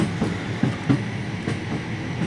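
A British Rail Class 156 diesel multiple unit rolls past in Train Simulator 2022, a steady rumbling rail noise with rhythmic clickety-clack wheel beats over the joints, fairly close and alone.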